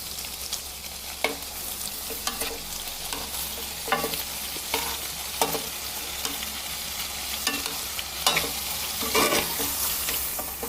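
Raw banana chakli frying in hot oil make a constant close sizzle, broken by repeated clinks and stirring taps of a utensil against the pan.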